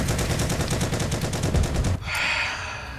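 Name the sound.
gunfire in the video game Heroes & Generals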